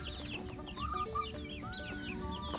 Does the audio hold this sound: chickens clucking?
yes